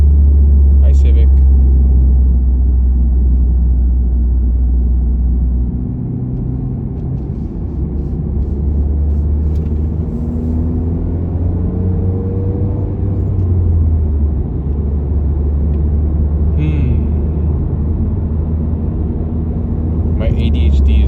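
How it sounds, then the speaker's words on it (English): A Honda Civic drives past on a road, a loud low rumble that swells and fades over about twenty seconds, with a nearby voice talking over it. "Oh, that's a Civic. Hi, Civic."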